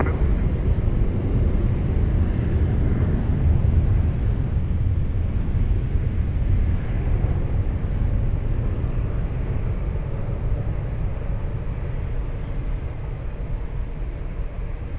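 A jet airliner rolling for takeoff on runway 20 at Lisbon Airport, a steady, loud low rumble of engine roar that holds for the whole stretch and eases slightly toward the end.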